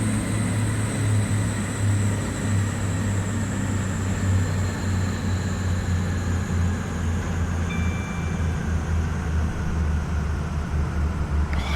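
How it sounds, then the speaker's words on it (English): In the Train Simulator 2019 video game, a train engine drones steadily and then spools down, with its whining tones slowly falling in pitch over a constant low rumble, with no talk over it. "I'm not getting bored of that noise as that spools down."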